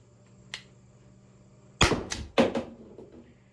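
A Byrna LE launcher fires once with a sharp, close crack, followed by a quick second impact-like snap; a faint click comes beforehand against a quiet background.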